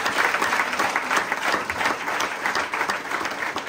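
A church congregation applauds the Lord in steady, sustained clapping that fills the room at an even level throughout, with no speech over it.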